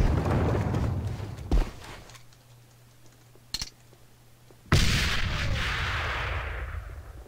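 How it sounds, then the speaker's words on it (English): Gunfire in a video game, a few loud booming shots with long rumbling decay, separated by quieter stretches with a faint hum and clicks. "It's just a gun."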